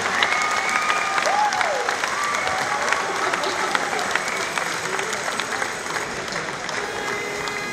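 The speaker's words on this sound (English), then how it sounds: "On peut les applaudir, les Américains." A large audience at the Bocuse d'Or cooking competition in Lyon claps steadily for the American team, a dense sustained wash of applause with some faint voices mixed in.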